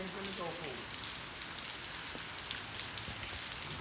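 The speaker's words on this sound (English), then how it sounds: "You probably can see the raindrops" Rain falls outdoors onto a hard surface, a dense, even patter that continues unbroken throughout, fairly close and moderately loud, with no voices.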